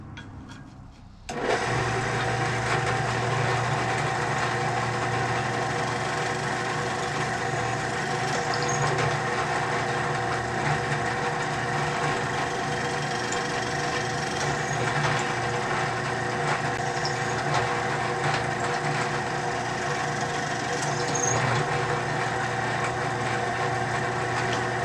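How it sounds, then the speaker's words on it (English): A drill press runs steadily, boring 3/16 inch pilot holes in wood, with a loud continuous motor whine that starts after a brief quiet moment and holds evenly throughout. "There, I drilled my pilot holes."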